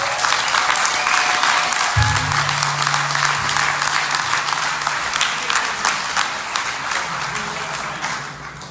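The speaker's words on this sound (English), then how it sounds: "please give a big applause" A crowd at a New York coin event gives a long, thick round of applause for a guest, steady and close, with a brief low tone and a few shouts under it before it eases off.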